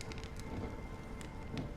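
Steady rain patters in the video game Honkai Star Rail, a dense, even wash of drops striking surfaces with a low rumble underneath, with no voices.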